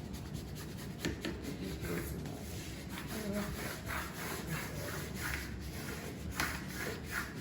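Hands smoothing marble contact paper down onto a desk, making repeated soft rubbing and swiping strokes in an uneven rhythm, close and fairly quiet, with no talking.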